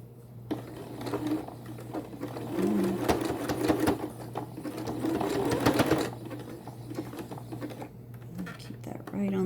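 Sewing machine running a zigzag stitch along the edge of a fabric mask in bursts of rapid rattling, stopping and restarting, with a steady hum beneath and talking in between.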